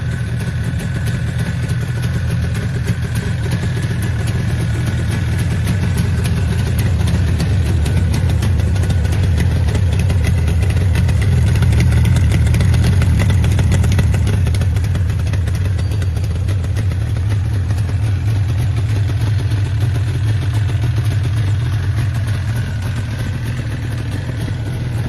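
A vintage Yamaha RD400C motorcycle idles nearby with a steady, rattly two-stroke burble, loud and unbroken throughout with a slight swell midway, no talk.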